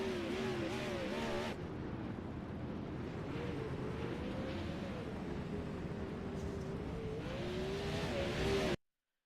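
360 sprint cars race on a dirt track, their engines roaring loudly and continuously with pitch rising and falling as they power through the turns, a commentator's voice faintly present.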